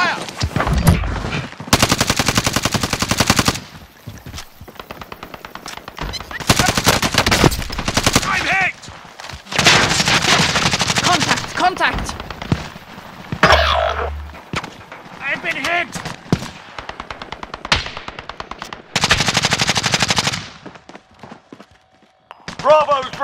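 Bursts of loud, rapid machine gun fire from the video game Warzone rattle repeatedly throughout, mixed with other gunshots and in-game voices calling out over the action.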